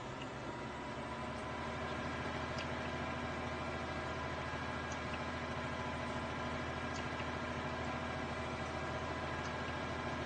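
A 120 hp tractor pulling a cultivator, its engine droning in a steady, loud, unbroken hum throughout with no talking.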